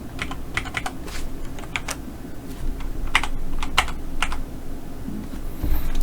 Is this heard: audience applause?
no